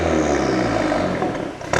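VW Golf Mk8 GTI with its GPF deleted, engine revving loud and close in a short burst, a rising then falling roar that fades slightly before a sharp crackle at the end.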